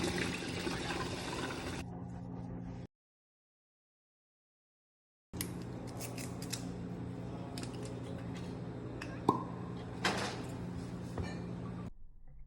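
Bourbon swirls in a glass in a vortex spin for a barrel-aged Old Fashioned, giving a soft, close liquid swish and trickle that breaks off into silence and then resumes with a faint clink.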